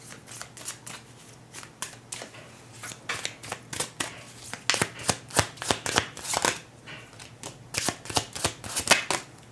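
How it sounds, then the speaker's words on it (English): Tarot cards are shuffled by hand in a run of quick riffling bursts that grow denser and louder toward the end, close up with no talking. "let me shuffle the cards"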